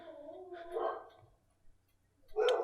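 Dogs bark in a few short bursts, close and fairly loud, separated by quiet gaps.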